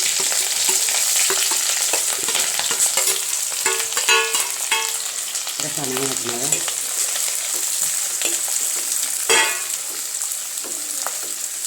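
Spices with green chili, ginger, garlic and shallots crackle and sizzle in hot oil while a utensil scrapes and stirs the pan; a brief spoken phrase is heard near the end.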